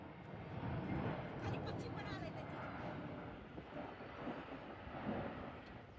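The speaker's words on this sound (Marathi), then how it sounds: "विमान हे बघा" An airplane flying overhead gives a faint, distant rumbling drone that swells slightly and fades, with soft voices in the background.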